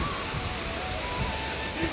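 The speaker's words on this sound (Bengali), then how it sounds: "জোরে বৃষ্টি হচ্ছে" Heavy rain pours down outdoors in a steady, dense wash of noise that fills the whole moment without a break.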